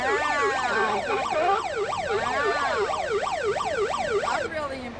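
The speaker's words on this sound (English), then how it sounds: "want to hear my siren? Yeah, we want to hear your siren" A loud, close fire truck siren wails in fast rising and falling sweeps at a fire prevention night event, the warbling tone cycling repeatedly before it cuts off near the end.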